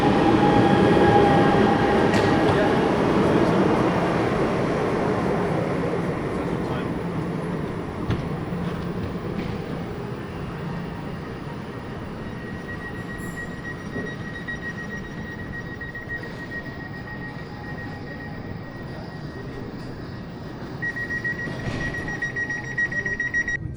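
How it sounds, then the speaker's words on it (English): Train ride toward central Oslo, Norway, with a steady rumbling hum of the carriage in motion, louder at first then settling, and a thin high tone appearing midway and swelling again near the end. "The train is very nice."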